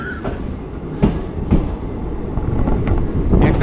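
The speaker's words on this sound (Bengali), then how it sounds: "এই স্টেশন থেকেও আমাদের ট্রেন কিন্তু এখন ছেড়ে দিয়েছে" A moving train heard from inside near the door, a loud continuous rumble with sharp wheel clacks and knocks over the rail noise.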